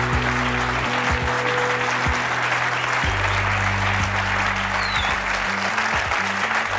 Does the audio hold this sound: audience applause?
yes